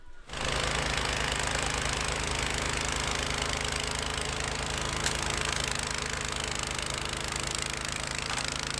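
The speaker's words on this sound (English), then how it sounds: "So we're gonna see if we can do a little bit of snow blowing." A small snow blower engine runs steadily after a brief start, a close, loud, even mechanical chug with a constant rattling drone throughout, at a cold Alaska cabin, with no voices.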